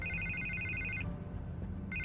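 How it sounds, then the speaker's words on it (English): A telephone rings in the Telltale Batman video game, two bursts of an electronic trilling ring separated by a short pause, with a low game music bed underneath. "I can't get the phone to stop ringing."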